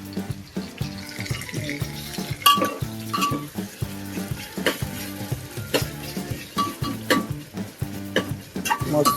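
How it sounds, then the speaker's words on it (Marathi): Chicken pieces frying in hot oil in a home kitchen for a thick chicken gravy, with a steady loud sizzle, bursts of crackling and the clatter of stirring throughout. "गाईस तेल गरम झालेलं आहे. आपण याच्यात टाकूया स्लो."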